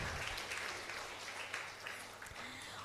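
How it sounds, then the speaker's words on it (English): Fairly quiet applause from an audience at an English language teaching conference, a continuous patter of clapping for a speaker that stays even for a few seconds. "please give a round of applause for our notable speaker, Dr. Umi Hairati Syam."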